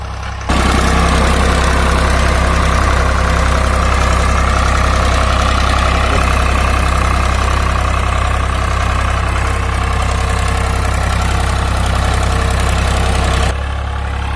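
A heavy diesel engine of a 1999 Swaraj 735 FE tractor idles close by, a loud steady rumbling chug that runs unbroken before cutting off abruptly near the end.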